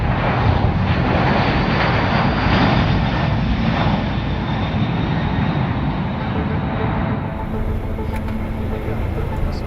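A military fixed-wing aircraft making a steep landing at a large base in Afghanistan, its engine a loud, steady roar that stays constant throughout and eases slightly toward the end.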